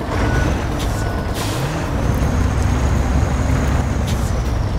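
A K700 tractor driving in the SnowRunner video game gives a steady, loud, rumbling engine and drivetrain drone with mechanical clatter that lasts the whole stretch without letting up.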